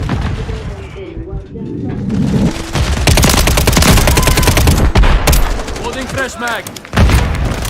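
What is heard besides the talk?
grenade explosion and gunfire in a video game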